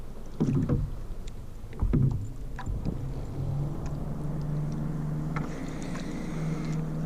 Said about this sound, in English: Hear the power boat.